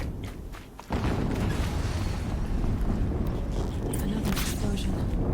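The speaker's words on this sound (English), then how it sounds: "Another explosion." A sudden loud explosion in Horizon Zero Dawn bursts in near the start and leaves a sustained roaring rumble that fills the rest of the moment.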